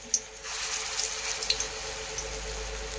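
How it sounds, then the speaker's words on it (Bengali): Small gram flour fritters made with kulekhara greens sizzle in shallow hot white oil, a steady close hiss dotted with a few sharp pops and crackles, with no talking. "এই দেখুন বড়াগুলো এখন আমি ছোট্ট ছোট্ট এইভাবে নিয়ে তেলের মধ্যে ছেড়ে দেব।"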